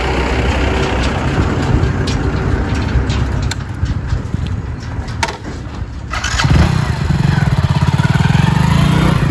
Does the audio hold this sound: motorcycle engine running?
yes